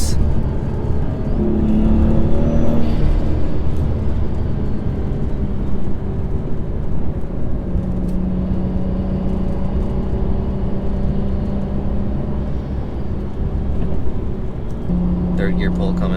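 A BMW 135i pulls hard in second gear on a wet road, engine note rising steadily and loud for several seconds, with road and wind roar under it and a voice talking over the drive.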